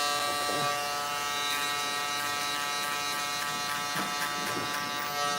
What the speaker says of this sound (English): I'll take my electric shaver and I'll tap down.